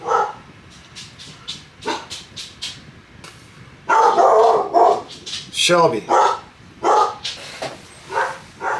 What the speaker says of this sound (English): Dog barking at the mailman.